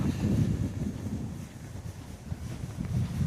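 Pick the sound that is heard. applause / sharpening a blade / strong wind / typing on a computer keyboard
strong wind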